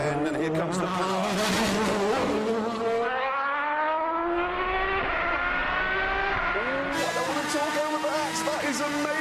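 An Aston Martin DBR9 race car powers out of a slow corner on a test track, its engine pitch rising through gears in a loud, snarling run, with a commentator's voice woven underneath.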